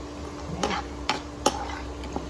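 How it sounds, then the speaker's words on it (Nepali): Spices frying in a pan while a spoon stirs them, giving a soft steady sizzle broken by three or four sharp scraping clanks against the metal, close and alone. "मसलालाई एकछिन भुटिदिन्छु।"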